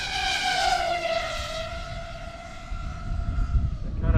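An FPV quadcopter racing fast downwind, its motors giving a steady high whine that slides gradually lower in pitch over a rushing wind roar, loud and continuous throughout.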